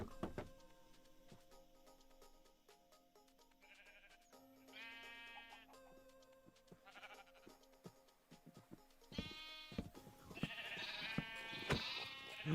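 Sheep bleating in the video game Minecraft, several separate nasal bleats scattered across the stretch at moderate loudness over a quiet, faintly humming background.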